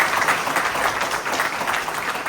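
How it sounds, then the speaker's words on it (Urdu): Steady, dense applause from an audience at a Jashn-e-Urdu gathering fills the whole stretch with even, continuous clapping. "تو ایک زوردار تالیاں ہماری بہن کے لیے"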